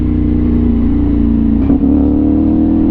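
A CFMOTO 450NK motorcycle fitted with an Orion aftermarket exhaust runs loud and close, a steady deep engine drone with a brief blip of revs midway before settling back.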